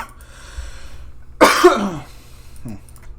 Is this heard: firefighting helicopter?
no